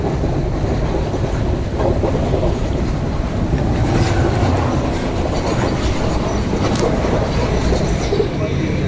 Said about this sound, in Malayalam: അപ്പൊ നമ്മുടെ ട്രെയിൻ പുറപ്പെട്ടിരിക്കുന്നത് അത്യാവശ്യം നല്ല തിരക്കുണ്ട് കടൽ തീരത്ത് കൂടിയാണ് പോകുന്നത്